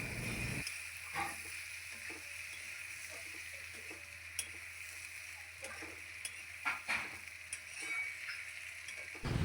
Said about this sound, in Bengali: এরপর দুটো কাঁচা লঙ্কা দিলাম এরপর আবারও বেশ কিছুক্ষণ নাড়াচাড়া করে নিলাম